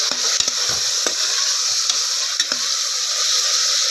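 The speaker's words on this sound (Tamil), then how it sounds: "இப்போ நல்ல பழுத்த தக்காளியாக 3 தக்காளி கட் பண்ணி வச்சுருக்குறோம். இதை ஆட் பண்ணிக்கலாம். போட்டு எல்லாம் நல்லா வதக்கி விட்டுக்கலாம்." Chopped ripe tomatoes sautéing in a hot pan, a steady bright sizzle with occasional scraping taps of a spoon stirring, close and continuous with no voices.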